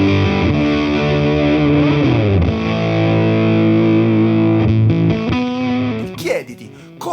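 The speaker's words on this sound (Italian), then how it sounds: "Parti ad esempio con un solo effetto, un overdrive, e impara a gestire tutti i suoi parametri." Electric guitar played through a single overdrive pedal, sustained distorted chords and notes ringing loud and close, shifting pitch before a scratchy ending, with no voice over it.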